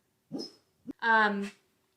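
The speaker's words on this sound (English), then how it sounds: "oh, my dog is having nightmares" A sleeping dog whimpers, giving a faint breathy sound, a short huff, then a clear, close, high nasal whine lasting about half a second in an otherwise quiet room.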